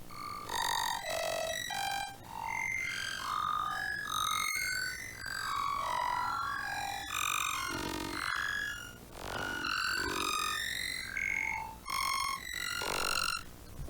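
Synth patch in Phase Plant run through pitch shifters with granular smearing, giving a busy stream of bright, chirping and warbling pitched blips over a low steady drone, dense and continuous with brief dips.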